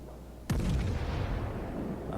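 The main guns of the Queen Elizabeth battleship fire in World of Warships, a single sharp blast followed by a deep rolling rumble that lingers and fades slowly, heard alone.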